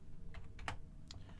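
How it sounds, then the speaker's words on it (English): A cat walks across a computer keyboard, setting off a few scattered, uneven key clacks close to the mic with no talking over them. "My cat's stepping on the keyboard"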